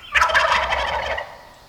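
A wild turkey gobbles once, a single loud, rapid rattling call that fades out over about a second, heard alone.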